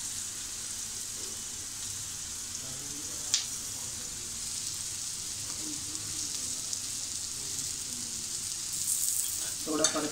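Fresh grated coconut frying with onion in oil in a pan, a steady close sizzle with occasional stirring clicks and a louder scrape near the end, no talking.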